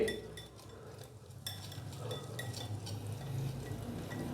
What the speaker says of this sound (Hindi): और इस तरीके से इसको अच्छे से मिक्स करेंगे।